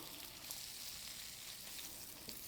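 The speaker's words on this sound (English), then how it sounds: "I'm just going to stir this around for a minute or two, just until it's ready" Food sizzles steadily in a pan while being stirred for tomato flatbread with spinach, a soft continuous frying hiss with faint scrapes, quiet and alone.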